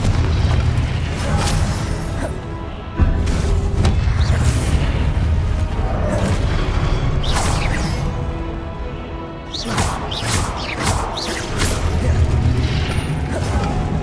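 Repeated fiery spell blasts from Confringo in the Hogwarts Legacy video game, loud booming bursts and crashes that overlap one another continuously, with heavy low rumble and sharp impacts throughout.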